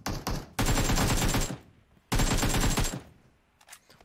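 Automatic rifle bursts spray in PUBG Mobile: two long rapid volleys of loud close gunfire separated by a brief pause, with a few shorter shots at the start and fainter ones trailing off at the end.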